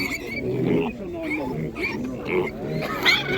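Piglets squeal and grunt in overlapping bursts at a livestock market in Nadvirna, Ukraine, mixed with nearby voices of people talking.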